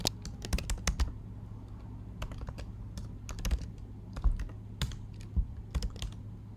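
Someone types a command on a computer keyboard in a terminal: scattered bursts of crisp key clicks, close and fairly quiet, with irregular pauses over a steady low hum.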